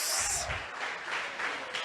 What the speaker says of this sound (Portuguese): Eu quero que você dê uma salva de palmas bem forte ao Senhor.